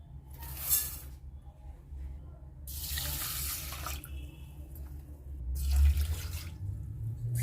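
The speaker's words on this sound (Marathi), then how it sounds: "तांदूळ धुवून घेतले जातात" Running tap water splashes over basmati rice being rinsed in a container in three separate bursts, with quiet pauses between and a low rumbling hum underneath.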